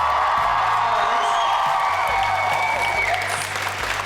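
An excited audience at an evening author appearance in Phoenix applauds and cheers, a dense, steady wash of clapping with whoops rising over it, loud and continuous throughout.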